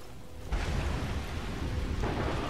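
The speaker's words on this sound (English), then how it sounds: "Stormcall is still raining down upon us." The Stormcall shout in the Skyrim video game brings a thunderstorm: a sudden rumbling roll of thunder swells over constant heavy rain, loud and broad, easing slightly near the end, with no voices.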